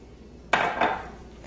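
Scone ingredients tipped into a mixing bowl land with two quick clattering thumps close by, a short dull rattle against the bowl and no talking.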